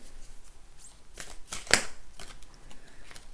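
Cards riffled and shuffled close up, a soft flutter building to one sharp crisp burst, then quiet rustling.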